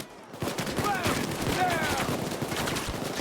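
Dense automatic gunfire rattles through a firefight in the heist video game Payday 2, overlapping shots forming a loud, continuous fusillade with little letup.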